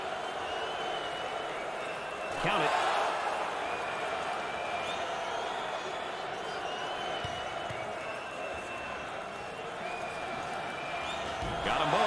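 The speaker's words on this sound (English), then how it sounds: "Listen to this crowd. Oh, there's all kinds of people standing and cheering and going wacky." Basketball arena crowd at a 2023 NCAA SEC Tournament game between LSU and Vanderbilt, a steady roar of cheering and applause that swells in bursts, with an announcer talking over it.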